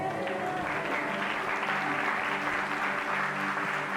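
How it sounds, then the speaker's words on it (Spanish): Applause from a conference audience, steady dense clapping filling the whole stretch at moderate loudness, with faint voices mixed in. "Alguien dele un aplauso al Señor"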